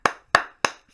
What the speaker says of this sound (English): Clap yourself.